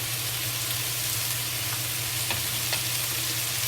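Thinly sliced pork frying in a pan with green pepper, a close, steady sizzle over a low hum, with a few soft stirring clicks and no voices.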